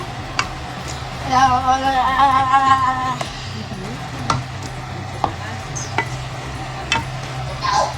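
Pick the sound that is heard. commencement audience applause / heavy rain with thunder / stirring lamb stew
stirring lamb stew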